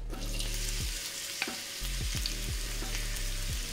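Onions fry in oil in a wok with a continuous close sizzle under a low steady hum, punctuated by a few light stirring clicks.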